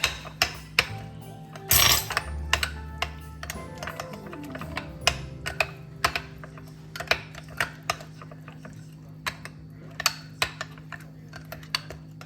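Food is mixed in a bowl after salt and pepper go in, giving a run of sharp, irregular clicks and scrapes of a utensil against the bowl, close and without talk.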